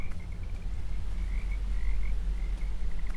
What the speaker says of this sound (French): Avec le doux bruit des grenouilles.